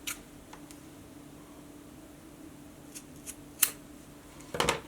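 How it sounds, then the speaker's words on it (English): Scissors snipping the cords of a DIY dog collar, a few sharp, close cuts spaced out over quiet room tone, with a cluster of quick snips at the end. "I want to cut these cords about 1/4 of an inch"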